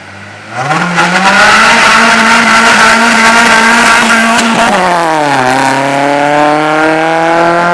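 An Acura RSX with a new custom exhaust roars up loudly, holding a raspy high rev before dipping and climbing again, harsh and close.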